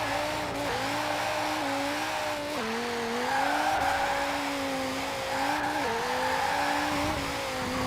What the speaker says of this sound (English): the Dodge Viper sounds cool, it accelerates nicely, and even though it's rear wheel drive and can, it spins quite a lot